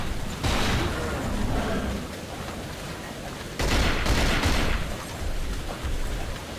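SMG fire in the video game Cold Fear, dense bursts of rapid shots with a rough, noisy texture in two main volleys, loud and close, mixed with game ambience.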